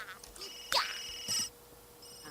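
Telephone ringing in The Sims 3, a bright electronic ring with two clear bursts, fairly close, alongside short game sound effects and no speech.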